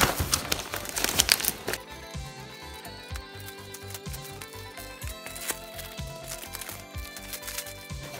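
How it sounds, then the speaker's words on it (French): Paper wrapping on a cardboard LEGO box crinkles and tears loudly at first, then softer rustling and handling of packaging continues over quiet background music. "donc on va ouvrir cette première boîte."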